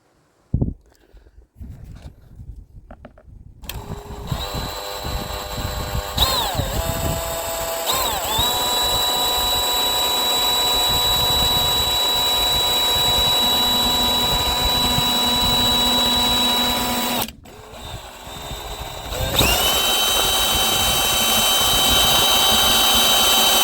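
An electric drill whirs steadily while a bit bores into a Klein Tools cell phone holster. The high whine holds for long stretches, briefly stops and restarts, and no voices are heard.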